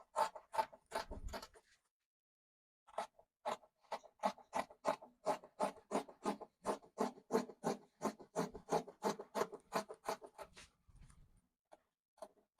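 Scissors cut fabric along the deep front armhole of a corporate dress pattern: a long run of crisp, evenly paced snips close by, in two bursts with a brief pause between, with no talking.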